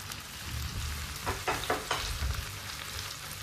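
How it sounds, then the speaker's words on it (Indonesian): Sliced tempeh sizzles steadily in hot oil in a Tefal wok, with a few scraping stirs of a spatula cutting through the constant frying hiss at close range. "Diaduk jangan sampai gosong ya."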